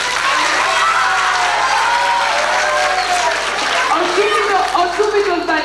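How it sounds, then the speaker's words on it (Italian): An audience at a 1989 middle school carnival party applauds, giving loud, steady clapping with some cheering that lasts several seconds while voices carry over it. "Ti prego di applaudire."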